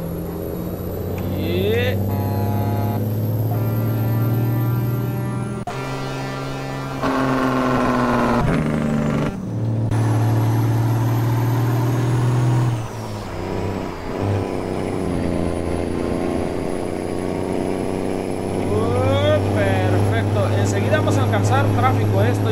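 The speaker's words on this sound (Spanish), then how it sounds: "Vamos a utilizar el freno motor, amigos, porque vean la bajada que viene" Heavy Kenworth T800 tractor-trailer with a loaded rig descending a steep grade at Alto de La Línea, Colombia, engine brake engaged: a loud, steady low diesel drone with shifting tones throughout, someone talking over it.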